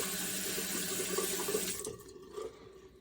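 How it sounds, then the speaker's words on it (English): Water runs steadily from a sink tap, close and continuous, then cuts off partway through, leaving a faint trickle and quiet. "So if you hear the water running, that is why."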